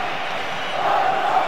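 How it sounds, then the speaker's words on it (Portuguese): Stadium crowd noise from the PES 2013 football video game on Nintendo Wii comes through as a steady roar of massed fans before kickoff, swelling slightly toward the end. "Muita torcida de ambos os times para um grande jogo"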